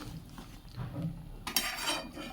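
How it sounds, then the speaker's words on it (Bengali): A spoon stirs a pea and mung curry with ghee and sugar in a pan. Soft, faint scraping gives way to a brighter metallic clink and rattle near the end, with no voices. "পুরো উপকরণটা ভালো করে মিশিয়ে নেব"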